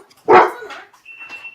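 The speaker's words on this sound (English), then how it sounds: "My dog is about to go crazy. He's about to go nuts." A single loud, close dog bark followed by a softer whimpering yip, indoors and otherwise quiet.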